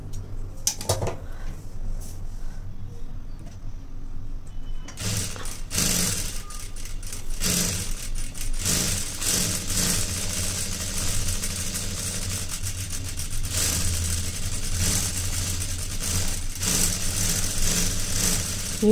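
A sewing machine stitches a plain blouse, its motor whirring in a steady, rapid mechanical run after a brief start-stop, continuing close and loud for a long stretch.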